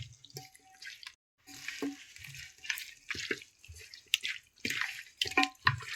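Chicken is mixed by hand with flour and cornflour marinade, giving close, wet squelching and slapping sounds in uneven bursts with short pauses.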